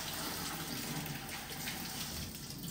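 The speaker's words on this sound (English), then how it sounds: "I simply pour off the water" Water poured off a bowl of soaked chickpeas in a faint, steady gushing stream that runs continuously for a few seconds.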